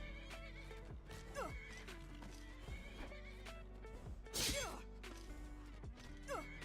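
A horse in Skyrim neighs and gallops amid game music and clashing fight noise, hoofbeats and whinnies mixed with a sharp crash midway, with brief talk underneath.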